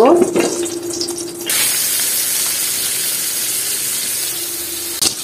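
Hilsa fish fry in hot oil in a pan, giving a steady bright sizzle that swells loudly after a short quieter start, with a faint clink near the end.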